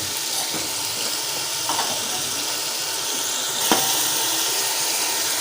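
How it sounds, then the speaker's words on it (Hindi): Green peas cook in a hot pan for a mixed vegetable curry with carrot, cauliflower and potato, giving a steady close sizzle with a few clicks of stirring. "मटरों को जो है कम से 2-3 मिनट हम पकाएंगे।"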